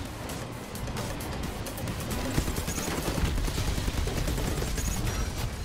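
Rapid gunfire rattles almost continuously in the vehicle combat game Hardware Rivals, a dense stream of shots over a steady engine and road rumble.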